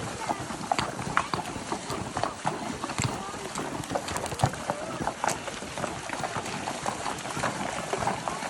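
Horses' hooves clip-clop steadily across the ground during a spring cattle roundup on a ranch, a dense rhythmic patter of many riders close by, with people talking intermittently over it.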